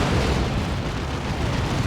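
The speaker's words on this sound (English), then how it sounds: "Nice grenade." A grenade explosion in the real-time strategy game Warhammer 40,000: Dawn of War 2 during a 3v3 match, a loud, dense rumbling blast that fills the whole clip with steady broadband roar.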